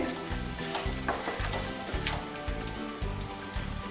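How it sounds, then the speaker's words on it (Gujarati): Kharek (dry date) halwa is stirred in boiling milk and water with steady, rhythmic scraping strokes, each pass of the spoon through the thickening pot repeating at an even pace, close up and without talk. "આ બધું દૂધ અને પાણીનો ભાગ બળી ન જાય ત્યાં સુધી આપણે એકદમ ચલાવતા રહીશું"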